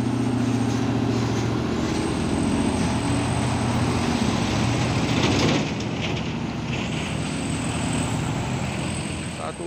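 Paulos box truck drives past on the road, a loud, heavy engine roar that swells as it passes midway and then eases off, with a high whine over the traffic noise.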